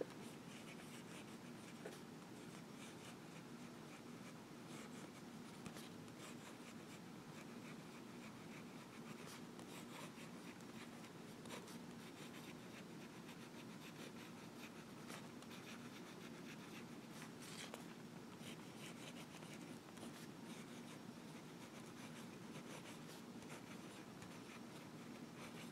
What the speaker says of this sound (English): we'll do some writing.